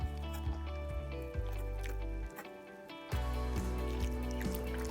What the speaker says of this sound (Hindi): ये देखिए अब इसमें पानी जाएगा और हम इसको कंटिन्यू मिक्स करते रहेंगे।